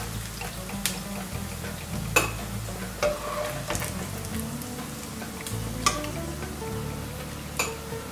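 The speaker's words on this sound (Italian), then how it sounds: "il guanciale deve venire bello rosolato" Guanciale sizzles steadily in a pan for carbonara, a continuous frying crackle heard close up, broken now and then by sharp clinks and scrapes of stirring, with no talking.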